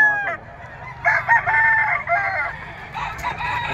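Gamefowl roosters of sweater bloodline crow repeatedly among clucking chickens at a pet market in Bocaue, Bulacan; several overlapping, fairly close calls rise and fall with no talking.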